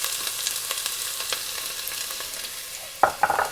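Onions in olive oil sizzling in a pan, a soft steady frying hiss with a few sharper stirring clatters near the end, close and fairly quiet, with no talk.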